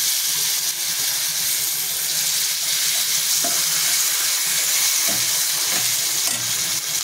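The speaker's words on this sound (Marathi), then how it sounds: "ह्या मसाल्यामध्येच आपल्याला वरस टाकून घ्यायचे, परतून घ्यायचे" Varas fish pieces sautéing in masala in a pan for a sour fish curry, a steady loud sizzle running throughout with a few faint scraping stirs and no voices.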